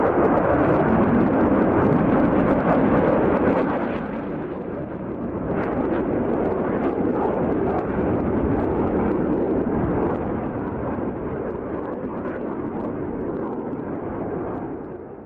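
Black Eagles display aeroplanes flying a rehearsal routine, a continuous heavy jet roar that is loudest at first, eases briefly, then swells and holds before slowly fading, with no voices.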